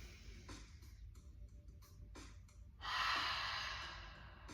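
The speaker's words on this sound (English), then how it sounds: "Add in that heavy exhale as if you're going to fall the mirror. Inhale in through the nose. And exhale." Heavy yoga breaths pass through the nose in a pelvic-floor therapy session: soft, airy inhales, then one long, forceful nasal exhale that rushes loudly and slowly fades.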